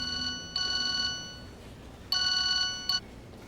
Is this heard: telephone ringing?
yes